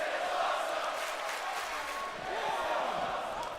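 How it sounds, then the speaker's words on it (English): A video game arena crowd roars steadily in WWE 2K19 during a wrestling match, a dense, loud wash of cheering that holds for several seconds, with voices mixed into the noise. "Crowd loving it."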